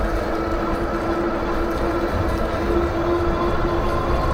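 A 1000-watt electric hub motor drives a Sivrock 26x4 fat tire e-bike off-road, making a steady whirring drone with a constant whine over broadband rolling and wind noise for the whole stretch, with no talk.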